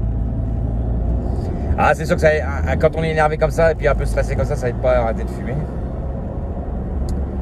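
Steady road traffic rumbles past on the Francilienne expressway, a continuous low drone of cars throughout, with someone talking in French over it for much of the time.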